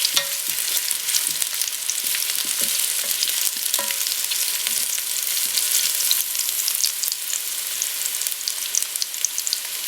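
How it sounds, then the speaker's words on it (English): Meatballs searing in a hot pan give off a loud, steady sizzle and crackle, close up, with a few light scrapes and stirring clinks, and no talking. "Alright, I'm getting a pretty good sear on them."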